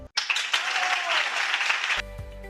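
Applause for students, their parents, teachers and community authorities on an educational radio broadcast: a dense burst of clapping from a crowd starts abruptly, holds steady for about two seconds, then cuts off into quiet background.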